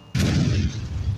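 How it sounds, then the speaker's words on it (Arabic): A heavy explosion goes off in a modded GTA San Andreas, a loud close boom with a sustained low rumble that fades slowly. "اسمع صوت الانفجار كده."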